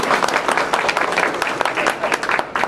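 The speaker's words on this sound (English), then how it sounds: "Let's give them a round of applause." Audience applause at a veterans luncheon, close and lively clapping with uneven bursts, while a few voices murmur in the room.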